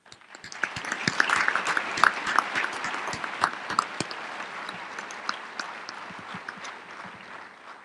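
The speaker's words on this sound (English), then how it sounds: "here's a round of applause to your future" Commencement audience at a Physician Assistant Studies graduation applauding: clapping swells quickly from many hands into a full, crackling round, then gradually thins and tapers over several seconds.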